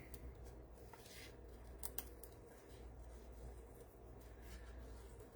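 Scissors snip a mushroom shape out of paper in a few quick, quiet cuts close by, faint against a soft background hiss, with no talking.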